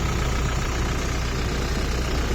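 A Toyota Innova 2.4 diesel engine with about 170,000 km idles steadily with a low, continuous rumble and faint rattling, nearby and unchanging throughout.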